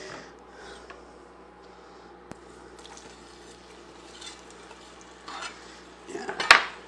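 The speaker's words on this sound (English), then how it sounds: "We'll give them a little stir, let them start sauteing." Onions stirred as they begin sauteing in a pan coated with a few tablespoons of oil, a faint soft sizzle under quiet scraping, with a louder clatter of utensil against pan near the end.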